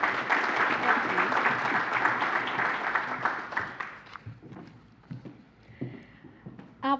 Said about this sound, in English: And once again, round of applause for Miss Allison Collins,